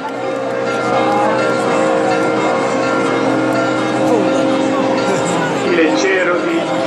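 The big church bell (campanone) of Gubbio tolls through a dense festival crowd during the Alzata dei Ceri, its steady ringing blended with loud applause and babble of people talking throughout.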